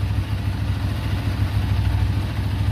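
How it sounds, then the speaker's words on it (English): A 2009 Buell 1125R motorcycle idles after warming up, a steady, close, low rumbling engine pulse with a fine mechanical clatter and no voices. "Bike is now warmed up."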